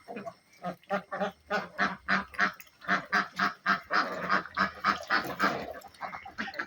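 A duck heading into its cage gives a rapid run of loud, close honking quacks, about two calls per second and steady throughout, with no talking.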